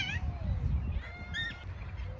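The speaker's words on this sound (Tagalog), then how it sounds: "Ang dami nang naririnig nating mga ibon." Birds call from trees overhead, several honking, goose-like cries rising and falling in short bursts over a low background rumble, moderately near.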